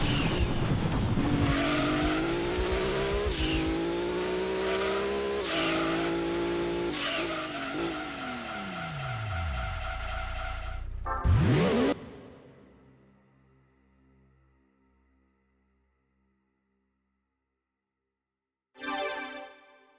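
Lancia Stratos rally car racing on a dirt course in Gran Turismo 2, with a loud engine revving through rising gear shifts, then a sharp whoosh and a fade into near silence before a brief burst of engine noise returns.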